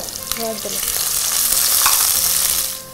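Onions frying in a pan with garam masala powder, a steady bright sizzle that holds throughout with occasional stirring scrapes, close and continuous, no voices.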